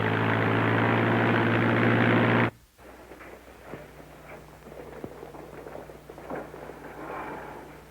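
A propeller aeroplane drones loudly in a 1936 film soundtrack, a steady engine roar that cuts off abruptly, followed by a quieter stretch of faint rumbling and scattered noise.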